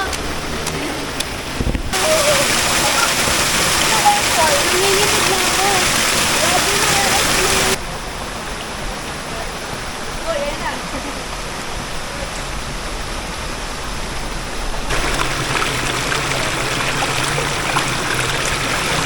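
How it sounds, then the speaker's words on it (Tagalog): Stream with a small waterfall at a rustic resort in the Philippines, a steady rushing, splashing flow that swells loud and close in parts, with people talking at times. "dito sa may sapa nila na may mini falls dun sa taas"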